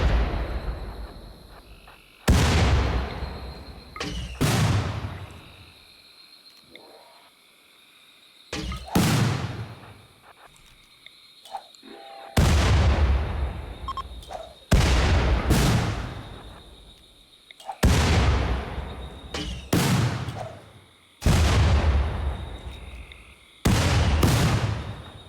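Frag grenade explosions and gunfire in RimWorld, a series of about a dozen loud, sharp blasts arriving in irregular clusters, each decaying quickly, with a faint insect-like chirring in the quiet gaps between.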